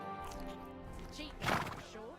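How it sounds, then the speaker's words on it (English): A horse in the video game Kingdom Come: Deliverance II whinnies in a loud burst midway, with hoof clops and a voice speaking softly around it. "Easy, good horse."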